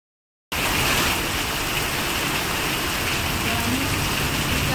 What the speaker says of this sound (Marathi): पण बघा खूप पाऊस चालू आहे.